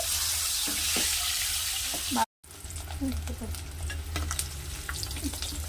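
Four peeled boiled eggs fry in a pan with a steady sizzle and occasional stirring scrapes, broken by a brief silent gap, with faint background noise throughout.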